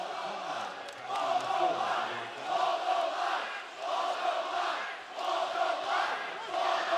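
A basketball arena crowd at a college game between Montana State and Utah State roars and cheers in rolling waves that rise and fall. A commentator's voice is faintly mixed in.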